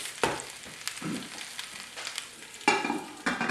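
Layered potatoes in a pan give off a quiet, uneven crackle of frying, with a few sharper scrapes and clatters of a utensil breaking through the sizzle.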